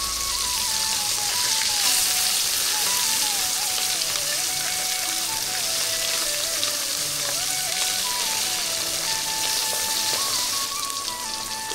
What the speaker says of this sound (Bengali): এখন আমি জাটকা মাছগুলো উল্টিয়ে দিচ্ছি।